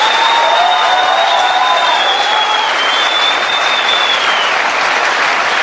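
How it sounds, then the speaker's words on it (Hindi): A large crowd in an auditorium applauds loudly and continuously, dense clapping filling the space with a few faint cheers on top. "मैं चाहूंगा इनके लिए एक बार जोरदार तालियां हो जाए।"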